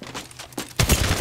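Apex Legends gunfire: a few scattered shots, then a loud rapid burst of automatic fire that fills the last half second, close and sharp.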